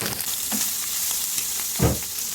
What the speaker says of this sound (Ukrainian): Закидаємо сюди кусочками порізану ковбаску і також підсмажуємо.